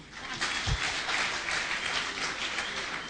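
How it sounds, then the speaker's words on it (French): An audience at a college tour event in Goma applauds: a steady, dense wash of many hands clapping at a distance fills the whole stretch at an even, moderate level. "Les célibataires, vous pouvez applaudir."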